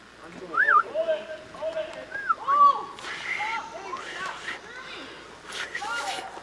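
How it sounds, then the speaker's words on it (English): A child whistles outdoors, producing a few short, thin warbling tones that rise and fall, fairly faint and interrupted by chatter and breathy noise. "I can almost whistle like this"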